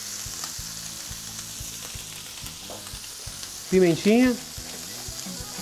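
Salt-seasoned meat sears in a pan for a paella campeira, giving a steady close sizzle throughout while a person briefly speaks.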